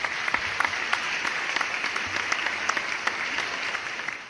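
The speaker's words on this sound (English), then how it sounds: "so clap it up to that" Sustained applause from a crowd, even and continuous with scattered sharper claps, steady in level from start to finish with no talking over it.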